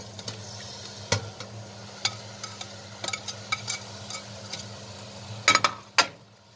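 Eggplant puree is stirred in a pan, with a low sizzle beneath scattered soft taps and scrapes of the utensil, and a few louder clacks near the end.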